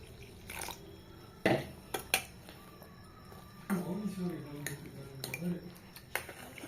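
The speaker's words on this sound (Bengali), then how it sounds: "জল দিয়ে ভালোভাবে মিশিয়ে একটা ব্যাটার বানিয়ে নেব।" Egg roll batter being mixed with water in a bowl: spoon clinks and scrapes against the bowl, wet stirring and sloshing in uneven bursts, close and fairly quiet.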